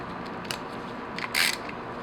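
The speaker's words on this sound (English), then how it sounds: "double check my torque wrench" A torque wrench clicks while bolts are torqued on a BMW M54 engine during dual VANOS timing work, with a few sharp metallic clicks, the strongest near the end, against quiet background hiss.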